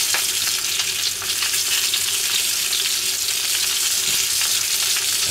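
Baked beans and bratwurst heating in a pan make a continuous close sizzle and bubbling hiss, loud and even for the whole stretch, with no speech.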